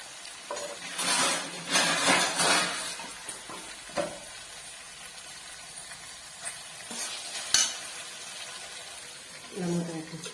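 Peas and potatoes fry in a pan with a soft sizzle and bursts of stirring and scraping, quiet and close, while someone talks at intervals.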